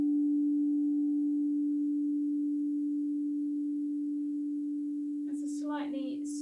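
A crystal singing bowl struck with a mallet rings out in one steady, pure sustained tone that holds evenly throughout, with a brief faint rustle near the end.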